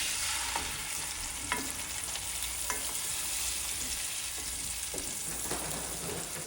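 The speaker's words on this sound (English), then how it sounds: "we will let the salmon sear just until it is caramelized" Salmon fillets sear in a hot pan with a steady, close sizzle. A few sharp utensil clicks and scrapes break through at irregular intervals, and no one speaks.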